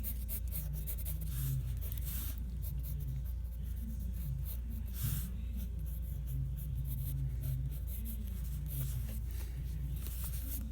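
A pencil sketches on paper in quick, close scratchy strokes, steady and soft throughout, with short bursts of faster shading and no talking.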